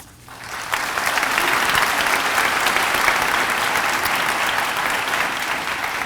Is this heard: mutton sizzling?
no